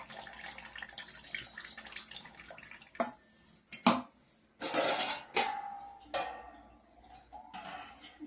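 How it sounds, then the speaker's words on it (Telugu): Water is drained from soaked sago in a pot, heard as scattered clinks and knocks of the vessel with short splashing pours in between, close and moderately quiet. "ఇప్పుడు ఇందులో ఈ వాటర్ తీసేస్తున్నాను"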